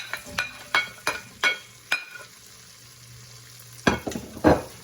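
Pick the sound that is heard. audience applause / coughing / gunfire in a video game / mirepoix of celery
mirepoix of celery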